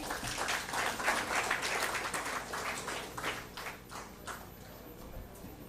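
Audience applause at a felicitation ceremony, a dense patter of many hands clapping at moderate distance, strongest early and gradually thinning toward the end.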